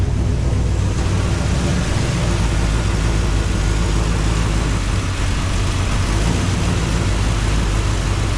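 A 1956 Chevrolet Bel Air engine with a carburetor idling, a loud, steady low rumble that holds constant throughout, close up and with no talk over it.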